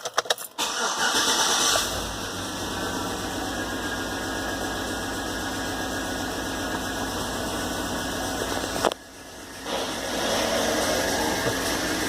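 A car engine cranks and catches right after a steering wheel position sensor repair, then settles into a steady, fairly loud idle with a short dip partway through; no one speaks.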